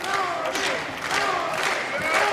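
A Helsinki crowd at Hartwall Arena during an M-1 Challenge MMA fight chants a fighter's name, Toni, as a loud, steady wash of many voices with rhythmic rising swells throughout.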